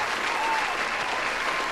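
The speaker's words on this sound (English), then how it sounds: "I'll give you another round of applause because that was just amazing" Steady applause from a crowd, a short burst of clapping at moderate volume with no pauses.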